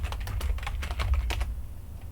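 Quick run of keyboard shortcut presses on a computer keyboard during rigging work, about a dozen crisp clicks in an uneven rhythm that stop abruptly. Each click is close and clear, with no voice over it.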